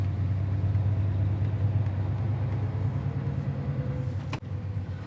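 A 1965 Ford Galaxie engine idles low and steady at close range, a smooth continuous rumble with no other sounds until a brief dip near the end.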